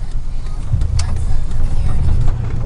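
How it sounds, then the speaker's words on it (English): A 2000 truck's 4.8 engine idling roughly with four cylinders dead, an uneven, stumbling low rumble, close by and fairly loud, with no talking. "Sounds like four of my cylinders quit working."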